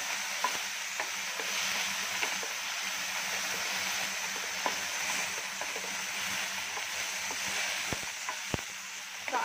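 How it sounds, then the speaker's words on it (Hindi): Moong cheela filling with small pieces of paneer stirred and cooked in a pan, a soft continuous sizzle with occasional light scrapes and clicks of the spoon, close but quiet, no talking. "अब इसको हम थोड़ा सा कुक करेंगे, बहुत ज़्यादा देर तक नहीं करना है, और इसको आप चलाते रहेंगे ताकि ये बर्न ना हो।"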